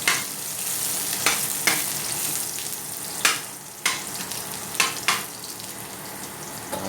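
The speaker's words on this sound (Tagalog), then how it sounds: "unahin po muna natin maglagay ng luya. Haluin lang po natin." Ginger fries in a pan with a steady hiss and sizzle, broken by scraping and clinks as it is stirred. The sound is close and no one talks.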